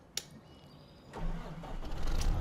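A Case IH Magnum 380 tractor engine in Farming Simulator 15 cranks and catches, building into a low steady rumble after a brief click, rising slightly louder toward the end with no talking.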